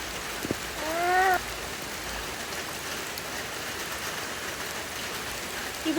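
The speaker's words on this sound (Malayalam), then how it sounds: "മഴ പെയ്ത് അത്യാവശ്യം വെള്ളം നിൽക്കുന്ന ഒരു മഴ തന്നെ ആയിരുന്നു." Steady rain falls with runoff water trickling and pattering close by, a soft continuous wash broken by a brief bird chirp early on.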